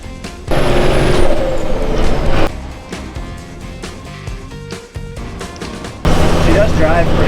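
Ratback truck on the road, a loud engine drone with gear changes and surging bursts of power between quieter cruising stretches, heard from inside the cab with voices talking.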